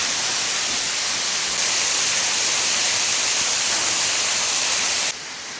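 A waterfall pours with a dense, steady broadband roar that holds constant, growing slightly louder partway through, then dropping in level abruptly near the end.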